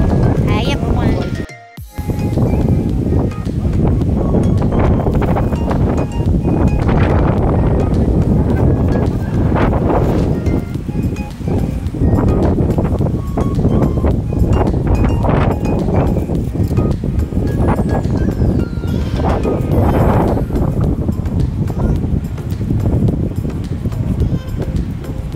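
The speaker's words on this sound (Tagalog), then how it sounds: "Guys, parking area na napakahangin." Strong gusts buffet the microphone in an open parking area, a loud continuous rumbling roar with a brief dropout near the start.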